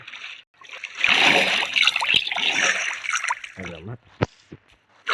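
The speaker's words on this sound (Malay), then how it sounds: "Kita berenang merentasi lautan." Water splashing and trickling as a player swims across the ocean in Minecraft, continuous through most of the stretch with a few sharper splashes near the end, under speech.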